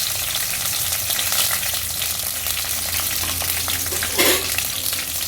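Onion, curry leaves and chopped green chillies fry in hot oil in a pan, giving a dense, continuous sizzle with a brief louder crackle and scrape of stirring near the end.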